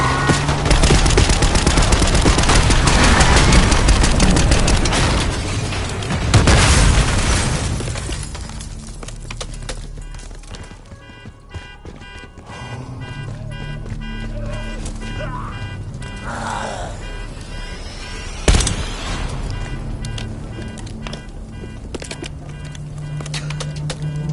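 Dense Call of Duty combat with sustained rattling gunfire and blasts filling the first several seconds, loud and close, then a quieter stretch of sporadic shots, debris and one sharp explosive crack later on, with voices shouting in between.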